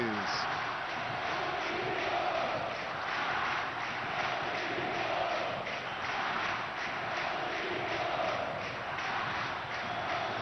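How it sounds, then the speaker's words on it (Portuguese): Football stadium crowd at a Brazilian league match between Flamengo and Avaí chanting a player's name, a rhythmic, pulsing mass of voices heard at a distance with a commentator speaking over it. "E a torcida grita o nome do R10."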